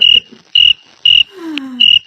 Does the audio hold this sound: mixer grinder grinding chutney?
no